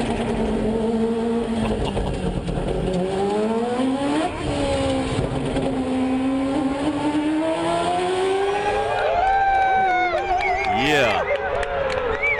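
A Mazda 787B race car on an onboard lap at Le Mans, its engine wailing steadily and rising in pitch through the gears, a high continuous scream with shifts near the end.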